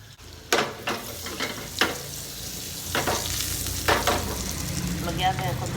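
Butter melts in a hot pan while shrimp pasta with mushrooms is being cooked: a continuous close sizzle broken by several sharp scrapes and knocks as the pan is stirred.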